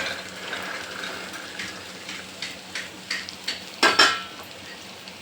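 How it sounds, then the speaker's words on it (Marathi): Roasted green chickpeas going into a pan and being stirred, with rhythmic scraping and clinking of a spoon against the metal pan over a faint sizzle, growing louder toward the end, no talking. "आता मी ह्याच्यामध्ये हे भाजलेले हरभरे घालणार आहे।"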